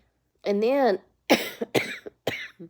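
A person coughs several times in short bursts, close and fairly quiet, mixed with brief spoken words.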